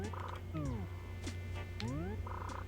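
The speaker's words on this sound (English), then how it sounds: "because they make the sound, we know when there's a cicada in the acre" Cicada chirping in the video game Animal Crossing, a steady buzzing drone with short rising and falling tonal game sounds over it, heard clearly and alone for a few seconds.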